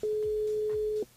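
A single steady telephone tone on a radio call-in line, one sustained beep lasting about a second and then cutting off, clear and loud.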